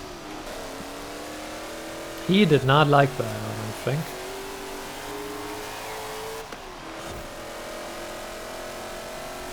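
Racing car engine in Forza Horizon 4 drones steadily at high revs throughout, with a brief louder surge partway through, while someone talks over it.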